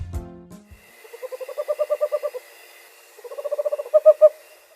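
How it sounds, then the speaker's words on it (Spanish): A striped owl calling, two runs of rapid, rising hoots close by, the second ending in a few louder drawn-out notes, with a brief low rustle at the start. "Este es el inconfundible y el hermoso búho común."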